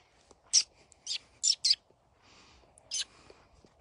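Blue jay calling in a forest: five sharp, loud calls in short bursts, the middle two close together, with a quiet gap before the last, over faint woodland background and no talking.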